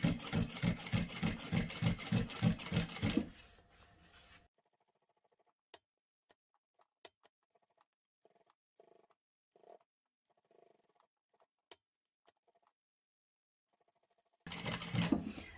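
A sewing machine stitches a fabric credit card pouch with elastic, giving a fast rhythmic whir for a few seconds, then near silence broken by small clicks before the stitching resumes at the end.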